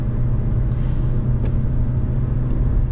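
A 2020 Fiat Egea 1.4 Fire running on LPG climbs a ramp at full throttle, giving a steady, loud, close engine drone and road rumble that holds without a break.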